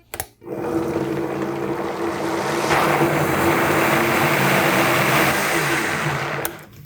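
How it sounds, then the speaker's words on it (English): A blender whirs loudly and steadily through chocolate protein pudding with chia seeds, a dense, continuous motor roar that starts abruptly and stops after about six seconds. "So now let's blend this up and see if we have to add any more liquid."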